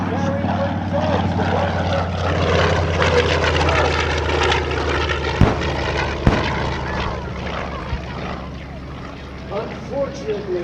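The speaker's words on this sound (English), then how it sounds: "The Avenger coming in right now." A TBM Avenger torpedo bomber warbird flies past at an air show, its radial engine and propeller giving a steady, loud drone throughout, with an announcer talking over it and a couple of sharp pops.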